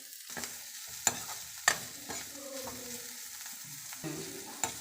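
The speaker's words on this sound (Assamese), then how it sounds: "পিঁয়াজখিনি সিজিব দিম এতিয়া।" Chopped onions frying in a pan, with a steady close sizzle broken by a few sharp scraping stirs of a utensil, and no talk.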